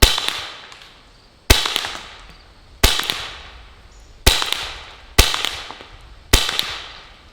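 Six sharp pistol shots from a Pistelle X-68 setup at an outdoor range, fired singly at a steady pace about a second apart, each loud crack followed by a short ringing decay.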